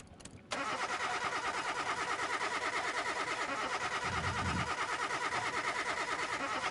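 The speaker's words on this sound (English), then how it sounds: "It's a very large engine." A large V10 car engine in a PlayStation 5 shop-repair video game runs loud and steady for the whole stretch after a sharp start, with a brief low rumble swelling midway and no talking.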